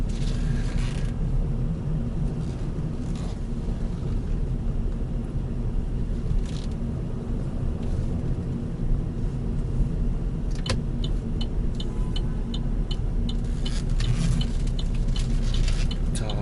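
A manual car in second gear rolls along at about 15 km/h with a steady low engine and road rumble throughout, plus light rattling like jangling keys, and no voices.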